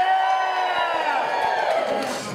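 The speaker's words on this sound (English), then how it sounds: "And the entire crowd will scream and cheer like this." A big cruise ship audience at a newlywed game show screams and cheers together in one loud sustained burst, close and full, with whoops riding on top.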